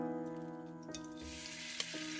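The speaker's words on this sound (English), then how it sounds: "Don't stir fry the onions for a long time" Onions stir-frying in a hot pan give a quiet, steady sizzle with a couple of soft clinks or stirring taps partway through.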